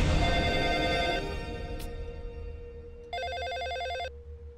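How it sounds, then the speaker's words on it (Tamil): A telephone rings in a Tamil film scene: a loud, close electronic trill sounds, breaks off, then trills again for about a second over a low background hum. "போன் எடுறி"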